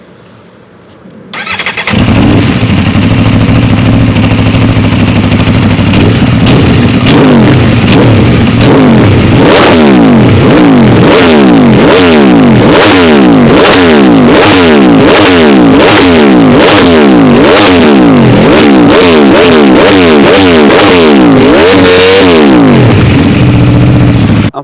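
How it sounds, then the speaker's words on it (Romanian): An Aprilia RSV4 V4 sport motorcycle engine starts and is revved hard over and over, loud rising and falling roars close by, ending as the engine cuts off. "Soundcheck Aprilia RS V4."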